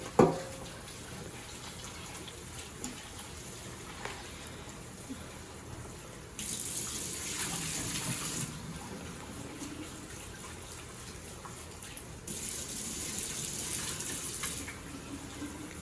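A kitchen tap runs over diced yams being washed in a sink, a steady close stream of water that grows louder and gushier in two stretches as the flow strikes the yams and fills the bowl.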